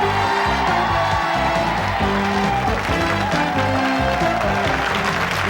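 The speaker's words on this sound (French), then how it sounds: "Vous l'avez sûrement entendu par les applaudissements et les cris." A studio audience at a French television dating show applauds and cheers loudly and continuously, with dense clapping over bright show music throughout.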